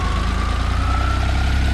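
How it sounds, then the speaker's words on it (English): A 1970 Porsche 911T idling a little high on a warm night, a steady, even engine drone with a faint whine running through it, continuous and close. "We're idling a little high."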